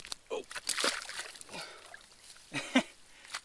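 A released cutthroat trout splashes back into lake water on a fall fishing outing, a couple of brief close sloshing splashes between bursts of excited talk.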